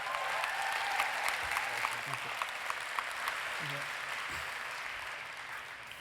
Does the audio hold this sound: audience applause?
yes